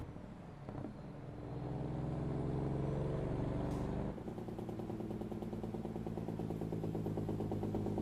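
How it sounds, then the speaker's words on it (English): Traffic in a truck-driving video game: a steady, low engine drone with passing vehicles, which drops and changes tone partway through, heard without speech. "You can hear some of the traffic in the background."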